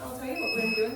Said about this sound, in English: We are going to use the timer, so you'll be able to hear the beep